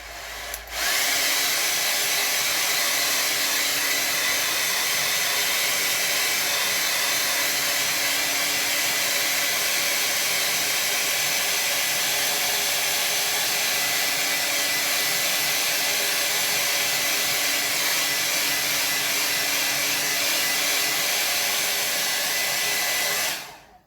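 A hair dryer drying a watercolor painting, a loud, steady whooshing whine that starts abruptly and runs unbroken for over twenty seconds before cutting off.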